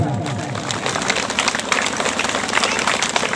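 An audience at a Sarna religious gathering claps in a dense, continuous burst of applause, with voices mixed in.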